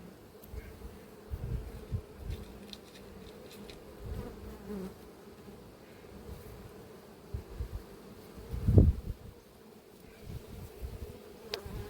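Dense, steady buzzing of many honey bees in a hive at close range during colony splitting, a continuous droning hum with a brief louder burst near the end.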